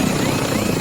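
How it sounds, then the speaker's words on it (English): A helicopter in the video game Insurgency Sandstorm roars loud and close with a dense, continuous rotor and engine rumble and no voices over it. "There goes the helicopter."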